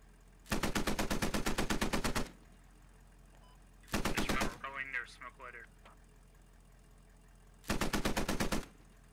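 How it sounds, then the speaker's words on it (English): A .50 cal machine gun fires in the Squad military shooter, three loud sustained bursts of rapid rhythmic shots separated by pauses, with brief radio-like voice chatter between the first two bursts. "if I hear a 50 cal firing over my head, I'm going to be a little sad about that as well."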